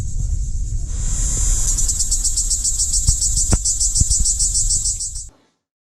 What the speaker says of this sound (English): You can see cicadas on the branches.